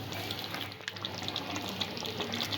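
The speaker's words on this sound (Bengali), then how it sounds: "জল দিয়ে দেবো যাতে সব কিছু সেদ্ধ হয়ে যায় ভালোভাবে" Water poured into a pot holding fish head and ash gourd, a continuous close splashing pour with small bubbling spatters, steady throughout and free of speech.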